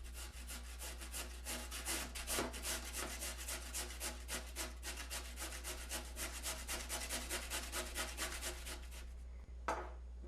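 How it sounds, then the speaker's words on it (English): A potato is shredded on the medium blades of a hand grater, making steady rhythmic rasping strokes, close and fairly loud, repeating evenly, with one sharp knock near the end. "I'm going to use the medium blades of this grater and shred the potato up."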